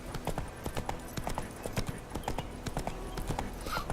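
Roach the horse gallops in The Witcher 3, hooves clopping in a fast, steady rhythm of sharp close strikes, with a brief whinny-like sound near the end.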